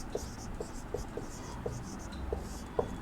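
Pen scratching out a Sanskrit word in a blank space on a page, faint light strokes in a steady rhythm over a low room hiss, with a voice speaking underneath.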